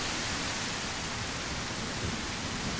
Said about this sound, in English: we run over here to fire during the rain.